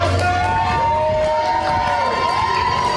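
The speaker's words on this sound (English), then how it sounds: "camp counselors line up and cheer while welcoming the kids to their camp day" Camp counselors lined up to welcome arriving children to their camp day cheer and shout together, a loud, steady wash of crowd noise with voices mixed in throughout.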